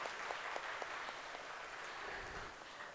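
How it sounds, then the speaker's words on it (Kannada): Audience applause after a one-man Yakshagana talamaddale performance, a steady dense wash of clapping that holds at an even, moderate level for the whole stretch, with a few sharper individual claps standing out. "ಒಂದು ದೊಡ್ಡ ದೊಡ್ಡ ಚಪ್ಪಾಳೆಯನ್ನು ನಾವಿಲ್ಲಿ ಸಲ್ಲಿಸಬೇಕಾಗುತ್ತದೆ"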